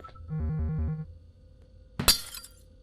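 A drone breaking a glass window in the video game Garten of Banban: a short buzzing electronic tone, a brief pause, then one sharp crash of shattering glass with a short tinkling tail.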